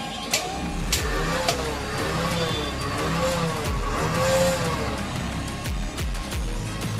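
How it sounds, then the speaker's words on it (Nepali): A Bajaj Avenger motorcycle with an engine fault, poor pickup and a worn, slack chain runs fairly quietly, its revs rising and falling in a wavering whine over a rough idle, with a few sharp knocks. "हेर्नुहोस् मेरो गाडीको इन्जिनदेखि आवाज आएको छ, पिकअप आएको छैन"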